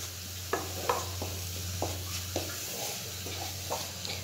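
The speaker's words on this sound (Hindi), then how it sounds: "इन सबको अच्छे से हम मिक्स कर लेंगे आपस में" Coconut being stirred with milk and condensed milk in a pan for coconut laddu, a spoon scraping in about eight clear strokes over a steady low hum and a soft sizzle.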